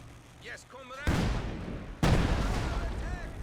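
ZiS field gun artillery barrage in the real-time strategy game Company of Heroes 2: two sharp, loud booming impacts about a second apart, each trailing off in a rumbling decay, after a brief quieter stretch.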